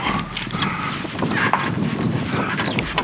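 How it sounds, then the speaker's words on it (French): Strong wind blows steadily with gusty buffeting against the microphone, a continuous rough rumble that swells and eases slightly. "il y a beaucoup de vent"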